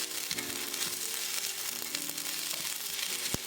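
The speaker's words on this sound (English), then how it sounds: "Once the oil is heated up, put the bean sprouts with a few garlic." Bean sprouts and a little garlic sizzle and crackle steadily in hot oil in a wok, a continuous close frying hiss with occasional sharper pops and stirring scrapes, no talking.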